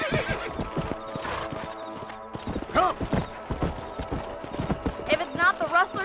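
Horse hooves clip-clop in Red Dead Redemption as a rider sets off on patrol of a ranch property, uneven near hoofbeats mixed with whinnies and neighs, heard under a voice talking.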